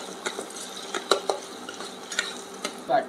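Chopped tomatoes cook in a pan for a bharang leaf vegetable dish, stirred with a spoon scraping the metal in scattered clicks and scrapes over a low, steady sizzle.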